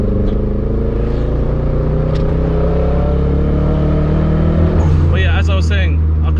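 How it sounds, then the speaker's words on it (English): Mitsubishi Lancer Evo engine with an exhaust valve, droning steadily as a loud, close car engine rumble with layered harmonics, followed near the end by a short burst of clattery, higher-pitched mechanical noise. "Valve sounds absolutely sexy"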